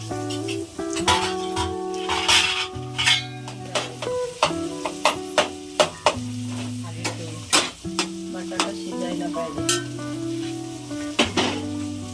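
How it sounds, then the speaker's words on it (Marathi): Poha with sugar and cooked potato is stirred in a pan, giving a steady run of sharp scraping and clinking strokes in an uneven rhythm, close and fairly loud, over a soft sizzle with a tonal background. "व्यवस्थित मिक्स करून घ्यायचं."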